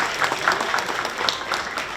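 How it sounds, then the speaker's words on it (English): Audience clapping for a second grade class at a school winter concert, a steady dense patter of many hands at moderate distance filling the room briefly, with no voices over it. "One more round of applause for Ms."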